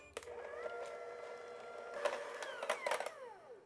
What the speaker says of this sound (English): we're going to beat it using beaters instead of whisk this time